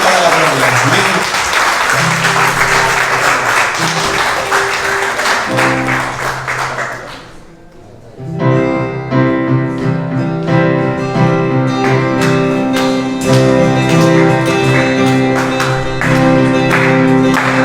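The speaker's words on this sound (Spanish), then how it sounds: "Dale un fuerte aplauso al Señor. Un fuerte aplauso." A church congregation at a Sunday service in Mula bursts into loud, sustained applause, dense and close, dipping briefly midway before resuming strongly alongside music.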